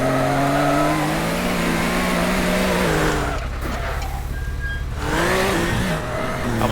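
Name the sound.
fast car engine revving in video game Teardown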